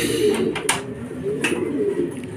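Racing pigeon at a loft, giving soft low coos repeated through a couple of seconds, near and fairly clear, with brief rustles or flutters in between.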